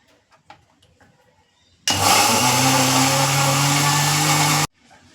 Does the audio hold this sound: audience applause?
no